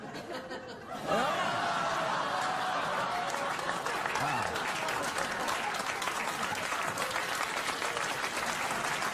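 Studio audience on a late-night talk show breaking into loud sustained applause mixed with laughter, a dense roar of clapping that swells after a brief moment of speech and holds steady.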